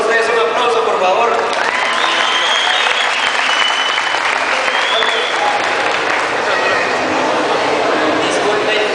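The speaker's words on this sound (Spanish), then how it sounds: "Un aplauso, por favor." Sustained applause from a large audience at a comic convention presentation in Guatemala, dense and loud throughout, with a voice speaking over the clapping.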